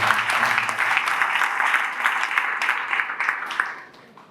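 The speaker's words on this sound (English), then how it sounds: "Let's clap for ourselves." An audience at a health talk clapping for themselves, steady lively applause from many hands, fairly close, tapering slightly at the end.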